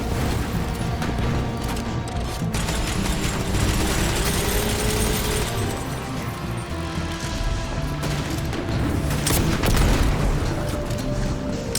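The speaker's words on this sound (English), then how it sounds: "Buddy, this is a rocket." A rocket explosion in the video game Destiny 2, a dense sustained roar of blasts, crashes and rumbling debris from start to finish, loud and close, with a heavier surge toward the end.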